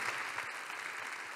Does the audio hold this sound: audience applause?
yes